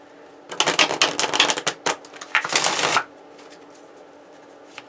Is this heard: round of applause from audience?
no